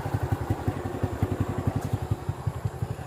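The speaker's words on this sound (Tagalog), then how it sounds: "Di lang nako patyon ang motor kay magdali ra ko." A motorcycle engine idles close by, left running while the rider stops, giving an even, rapid putter that pulses steadily throughout.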